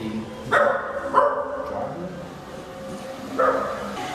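A dog barks outdoors in foggy weather in Peru, three separate sharp barks spaced a second or two apart, fairly close, with light background noise between them.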